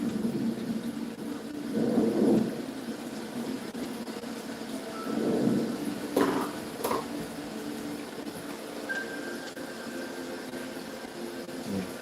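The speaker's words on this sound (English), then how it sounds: "we got the lightning effect going off over here with the raining." Thunder and rain effect played through a home theater sound system, low rumbling swells under a steady hiss of rain, with a couple of sharper cracks partway through and no talking.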